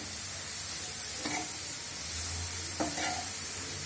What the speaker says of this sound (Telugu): జీడిపప్పులు వేయించగా మిగిలిన నెయ్యి ఉంటుంది కదండి అందులోనే ఈ క్యారెట్ తురుము వేసి వేయించుకోవాలి